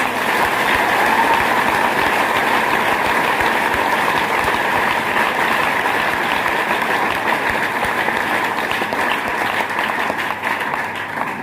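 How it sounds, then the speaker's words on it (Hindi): A dense, steady roar of applause from a large audience at a business seminar, sustained and loud across the whole stretch with no talking over it. "एक बार जोरदार की तालियां आपको।"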